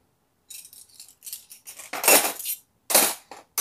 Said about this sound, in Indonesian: Kalau yang sendok seperti ini, aku biasa taruh di laci.